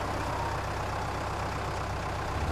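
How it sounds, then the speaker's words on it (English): A tractor engine in a farm simulation game runs at a steady, close idle, a dense low rumble with no break or change and no talking. "I gotta start the engine first"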